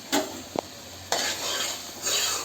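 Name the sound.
tomatoes and onions sautéing in a covered pan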